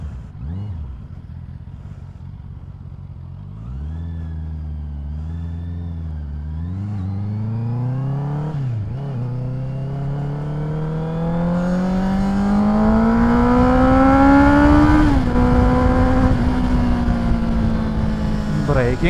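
A Honda CBR650R motorcycle is ridden on its first outing, the inline-four engine climbing through the gears in rising revving sweeps with brief dips at each shift, loud and close, under wind noise.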